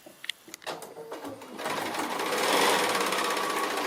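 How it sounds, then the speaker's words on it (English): Sewing machine joining two pieces of fabric for a foundation-pieced quilt block: a few soft clicks and taps at first, then the motor starts and runs as a steady, fast, close-up rattling hum. "So I'm going to go ahead and sew these two together."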